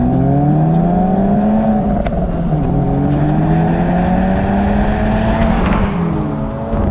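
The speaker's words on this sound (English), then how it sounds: "they've added burbles and pops and drama to Sport Plus mode" A 2024 Acura Integra Type S engine drones loudly in Sport Plus mode and shifts pitch as it revs, with a few sharp exhaust crackles and pops near the end.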